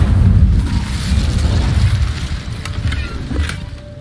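A fiery blast from the Incendio fire spell in Hogwarts Legacy, a loud low rumbling burst at the start that rolls on as a sustained roar, with faint crackles and a brief bright tick later.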